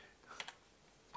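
A few faint, quick keystrokes on a computer keyboard while typing into a terminal console, soft isolated clicks in a quiet room.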